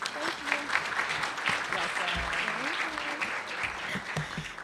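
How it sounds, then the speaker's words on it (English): An audience applauding the host at a panel event, a moderate patter of clapping with some voices mixed in. "So let's give her an applause."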